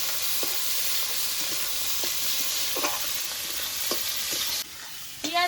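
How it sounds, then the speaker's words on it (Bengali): Onions with tomato and green chili frying in a pan for chowmein, giving a steady loud sizzle with occasional scrapes of a stirring utensil; a sharper hiss flares briefly near the end. "এবার এই পেঁয়াজগুলোর সাথে ভালো করে এগুলো একটু ভেজে নেব।"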